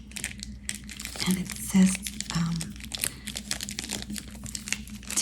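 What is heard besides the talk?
sheet mask crinkling in small plastic bag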